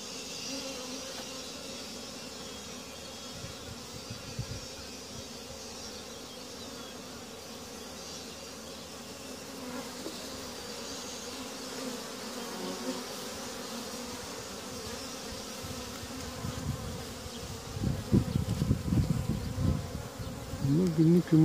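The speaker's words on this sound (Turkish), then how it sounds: "Erkek arılar bayağı çoğunlukta." Honeybees hum around an open beehive during an April hive inspection, a steady close swarm drone with a few louder passes near the end and only faint talk beneath.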